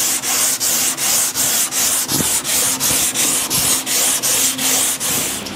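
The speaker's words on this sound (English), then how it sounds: "You really need to focus in on your sanding." Brisk hand sanding on a wooden chair, an even scraping stroke repeating roughly twice a second, loud and close, with a faint knock partway through.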